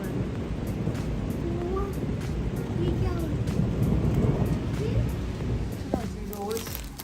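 Steady rain with low rumbling thunder, moderately loud and continuous, with faint scattered sounds and some wind over the microphone.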